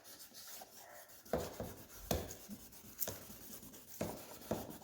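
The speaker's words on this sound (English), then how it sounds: "these are wet sanding pads, so you want to keep it" Wet sanding pads rub over a hazy, oxidized Subaru STi headlight, with quiet rasping strokes under a steady, faint scrubbing and sharper passes landing roughly once a second.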